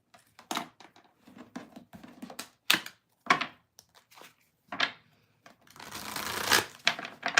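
Tarot cards are shuffled up close, in a series of quick, crisp riffling and rustling bursts with short pauses between them, ending in a longer continuous shuffle.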